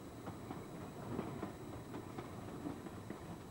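A narrow-gauge train on the Kecskemét line runs steadily nearby, a continuous low rumble with faint rhythmic clicks from the wheels on the rail joints, no voices.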